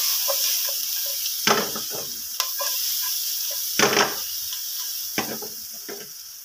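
Chopped aromatics sizzle steadily in a hot pan, with a continuous frying hiss broken by several louder scraping stirs of a spatula at uneven intervals, close and clear with no talking.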